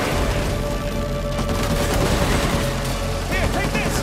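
Gunfire in the Uncharted 4: A Thief's End video game, a dense continuous barrage of shots and booms with voices underneath.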